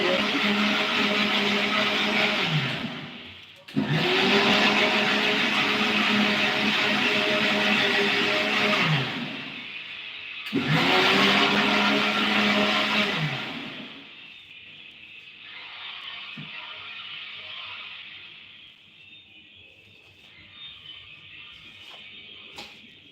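A kitchen mixer grinding gravy for palak puri whirs loudly in two long bursts separated by brief pauses, then a third shorter run winds down into quieter kitchen sounds.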